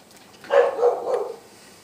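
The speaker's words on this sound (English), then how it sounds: "Now I've got my dog barking." A single dog bark in a Five Nights at Freddy's setting, one moderately loud, drawn-out woof that fades after about a second, heard alone.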